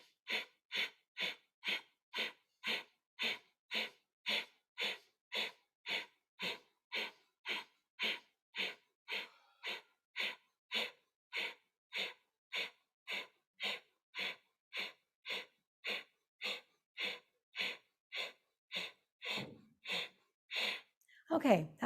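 Forty rapid, forceful breath pumps from a yoga breathing exercise, an even, steady train of sharp nasal exhalations close to the mic, ending with a slower, deeper breath.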